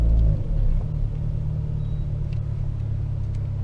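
Engine of a turbocharged 160-horsepower, 2,500-pound fuel-efficient commuter car while driving to work: a steady low rumble heard from inside the cabin, with a heavier surge at the start, then an even drone.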